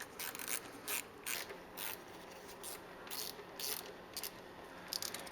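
A ratchet loosens transmission pan bolts underneath a Ford Raptor pickup, a faint but close series of quick clicking bursts in an uneven rhythm, with no talking.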